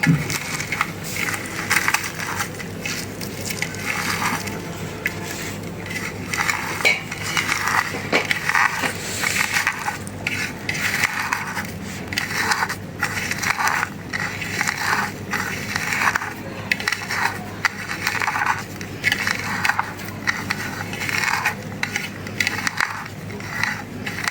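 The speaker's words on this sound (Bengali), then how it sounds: "শুকনা মরিচ ভাজা লবণ দিয়ে ডলা" Home-grown garden tomatoes being mashed by hand with fried dried chilies and salt, giving a steady run of close, squelchy crushing and rubbing sounds throughout.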